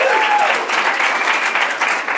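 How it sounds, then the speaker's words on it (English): A crowd applauds steadily for a couple of seconds, dense and fairly close, with a few voices faintly mixed in. "Give them a round of applause."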